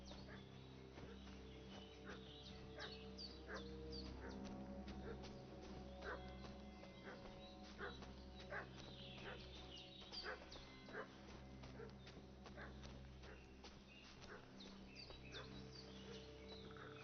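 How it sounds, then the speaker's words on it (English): Dog barking and yipping in the medieval village world of Kingdom Come: Deliverance II, repeated barks under a steady bed of game ambience, music and birdsong, moderately distant and fairly faint. "What's that dog making such a fuss about?"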